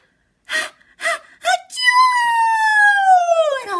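A storyteller's voice imitates a monkey's sneeze in a children's fingerplay: three sharp breathy gasps, then a long, high, wavering wail that slowly falls in pitch, loud and close with no other sound.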